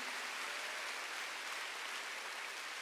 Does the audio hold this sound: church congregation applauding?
yes